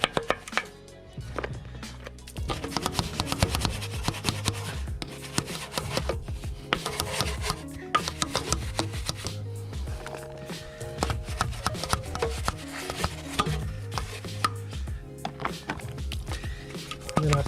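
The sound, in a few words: brush scrubbing car brake discs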